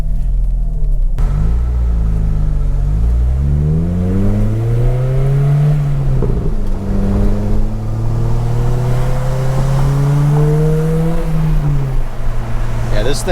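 An Acura RSX fitted with an N1 exhaust revs up close through several rising gear pulls, making a loud, raspy engine note that climbs, drops and climbs again over steady road rumble.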